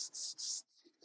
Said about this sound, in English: I'm actually going to use a smaller sanding block, I think, for this.